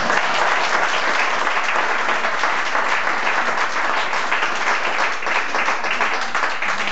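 A concert audience at a live performance with a guest singer claps loudly and continuously, a dense, even roar of hands that holds steady for several seconds.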